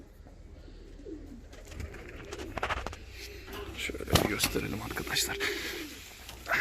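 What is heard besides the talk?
pigeons cooing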